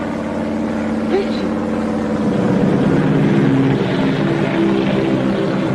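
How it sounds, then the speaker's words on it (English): A Coast Guard propeller plane drones overhead in a 1938 comedy film scene, a steady engine hum that swells slightly midway and continues under a mix of voices. "It's a Coast Guard plane."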